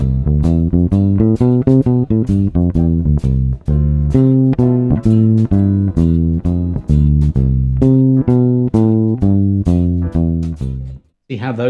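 Walking bass line played over a ii–V–I progression in C with a backing track, steady quarter-note bass tones stepping through the changes, loud and close, with no talking over it.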